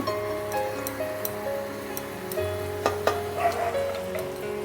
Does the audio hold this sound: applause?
no